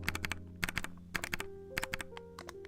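Keys clack on a handwired mechanical keyboard in quick bursts of sharp, close clicks and thocks, with sustained musical tones running underneath.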